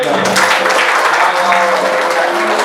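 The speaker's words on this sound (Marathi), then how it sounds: "एक टाळ्या वाजवले" An audience claps together at a kirtan, a short, dense, steady burst of applause filling the space at close range.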